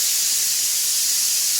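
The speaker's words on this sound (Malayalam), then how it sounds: "മിക്സ് ചെയ്തതിന് ശേഷം നമുക്കിത് അടച്ചു വെച്ചിട്ട് ഒരു 2 വിസിൽ അടുപ്പിക്കുക." A pressure cooker holding bitter gourd curry lets out steam in a loud, continuous high hiss that holds unbroken from start to end, with no talking.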